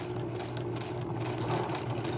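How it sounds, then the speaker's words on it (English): Sewing machine stitching fabric for a peacock-style dress, a close, steady mechanical whir with rapid rhythmic needle chatter running throughout. "So as you sew it, just kind of pull."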